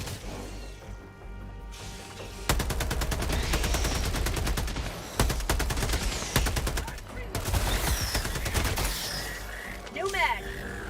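An automated turret in a shooter video game fires in rapid, loud bursts with short gaps between volleys, over game ambience and someone talking.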